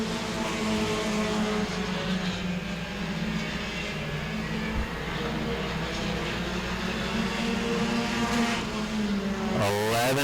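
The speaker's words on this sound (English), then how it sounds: "Mike Engel does have the fastest car on the track right now" Mini stock race cars roar continuously around a track, engines droning loud and steady, with another car revving up sharply near the end.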